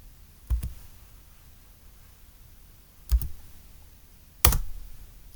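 Three separate keystrokes on a computer keyboard, well spaced with long quiet pauses between them, each a short sharp click close to the mic and heard alone.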